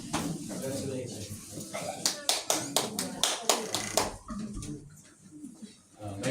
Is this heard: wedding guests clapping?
yes